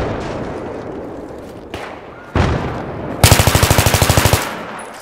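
M16A3 rifle fire in Battlefield 3 on the Seine Crossing map, a few separate booming shots followed by a fast, even burst of about a dozen loud, close rounds.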